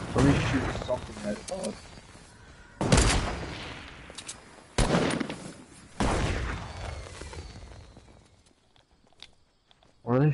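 Bursts of gunfire in Fortnite gameplay, several sharp volleys a couple of seconds apart with long decaying tails, interspersed with softer footstep-like thuds and quieter gaps.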